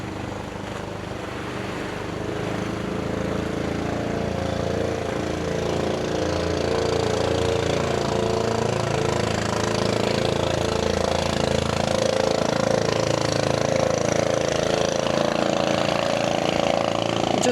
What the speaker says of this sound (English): Just waiting for the boat to go